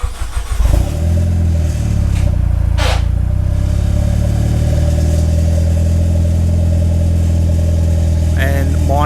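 An Audi RS3 engine cold-starts with a loud catch and flare of revs, then settles into a steady, rumbling idle that carries on close by.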